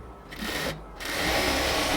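A sewing machine runs lock stitching on luxury cotton fabric for palazzo pants, its whirring motor starting and stopping in short bursts before running steadily, close by with no talk.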